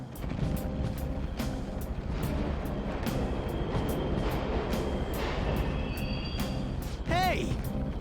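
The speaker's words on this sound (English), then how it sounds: "The trains are totally running." Subway trains running in the Persona 5 video game: a steady, loud rumbling rail roar fills the whole stretch, with rhythmic clacks and a brief screech near the end, while people talk over it.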